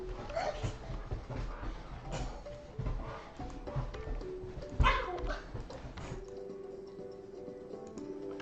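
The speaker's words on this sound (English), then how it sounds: "the dog and my wife are going insane in the background" A dog barks and yips excitedly in the background of an indoor room, a string of uneven, fairly faint barks and whimpers that fades near the end, with a little speech mixed in.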